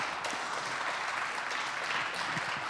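Audience applause at a gathering, a broad steady wash of clapping hands that holds evenly from start to end without a break, fairly distant and moderate in level.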